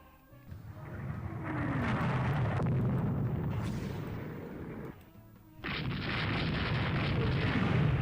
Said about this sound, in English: we just hit one of their Carnot-class battleships with a torpedo.